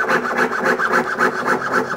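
A jeweler's saw cutting silver rasps back and forth in quick, even strokes, a steady scratchy rhythm close up with no voices.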